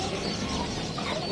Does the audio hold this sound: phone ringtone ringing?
no